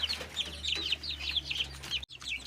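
A few backyard chickens clucking and chirping in quick bursts close by, over a low steady hum, on a small rural farm in western Ukraine.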